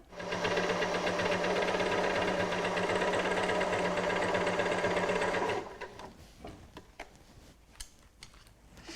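A sewing machine runs steadily for about five seconds, stitching piping into fabric, then stops with the needle down, leaving faint handling clicks and rustles.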